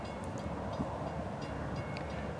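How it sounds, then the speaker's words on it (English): A Florida East Coast Railway train, the NST01, rumbles past a grade crossing at Michigan Street, a steady loud rolling roar with faint high squeals of wheels over wind noise, no voices. "Protect light is on for an important train. The NST01."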